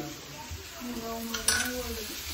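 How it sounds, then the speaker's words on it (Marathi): Masala frying in a pan for chole in a home kitchen, a soft sizzle with scraping stirs and a clink of a utensil against the pot, plus faint background voices. "हे बघा इकडे मसाला फ्राय करणं चालू आहे"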